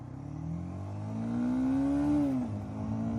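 A motorcycle engine accelerating while ridden on the road, a smooth mid-pitched rising whine that climbs steadily, then drops sharply as it shifts gear and begins to rise again, fairly close and steady.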